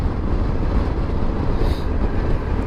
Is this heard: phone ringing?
no